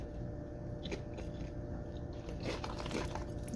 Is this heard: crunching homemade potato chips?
yes